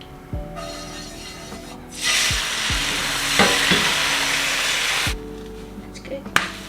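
Egg frying lightly in a pan, the sizzle swelling in bursts as it hits the hot surface, close and fairly loud, with scraping utensil sounds and short knocks between.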